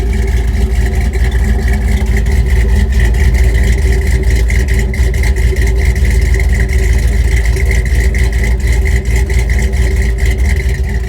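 An old car engine idles loud and close, a steady rumbling drone with a fast, even mechanical ticking throughout.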